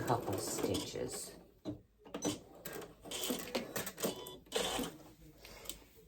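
A sewing machine runs in short mechanical bursts, stopping and restarting as it stitches back over the end of a seam, with a voice talking over and between the runs.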